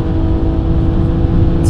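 A car lapping the Nürburgring at high speed, around 200 km/h, its engine holding a loud, steady drone throughout with faint wind and road noise close in the cabin.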